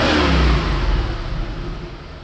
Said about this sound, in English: here's a little rev up sound clip of the way it sounds, basically bone stock.